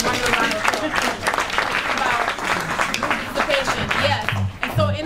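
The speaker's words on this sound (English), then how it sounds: "Give Rod a round of applause." Audience applause for Rod at a talk about stereotypes and brown paper bags, steady dense clapping filling the whole stretch with speech-like murmurs mixed in.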